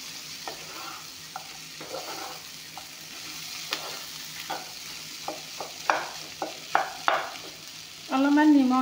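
Vegetables being stir-fried in a pan for a samosa-based recipe, with a low sizzle and repeated spatula scrapes and knocks that get louder and closer together, ending in a brief warbling burst.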